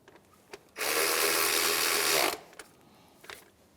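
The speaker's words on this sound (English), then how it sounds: "Just put that bolt in. And we'll snug that bolt up." A hand ratchet clicks in one fast continuous run lasting about a second and a half while snugging an alternator bolt on a 2003–2011 Honda Element, close and loud, with a few faint knocks before and after.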